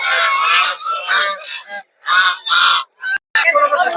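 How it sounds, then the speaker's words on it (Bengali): Native ducks at a rural livestock market give loud, close honking quacks in uneven bursts, with short silent gaps between them and no talk laid over the calls. "দেখতে পাচ্ছেন দেশি হাঁস"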